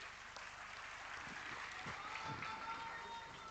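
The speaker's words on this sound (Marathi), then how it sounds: "एकदा जोरदार टाळ्या झाल्या पाहिजेत." Audience at a Shiv Sena political gathering in Thane clapping steadily, a dense wash of distant applause with faint crowd murmur, continuous and even throughout.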